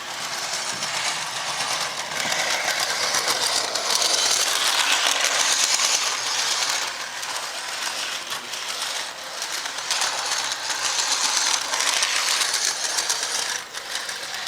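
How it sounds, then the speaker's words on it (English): A model train runs steadily through a Christmas snow village layout, giving off a continuous whirring, clicking mechanical rattle of small wheels and motor that swells slightly as it nears and stays even throughout. "let's see if I can get our train turned on"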